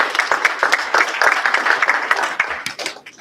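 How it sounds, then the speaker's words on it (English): Audience applause at a Trenton community gathering during the holidays, a dense burst of many hands clapping that stays loud for a few seconds and then thins out toward the end. "Give yourselves a round of applause."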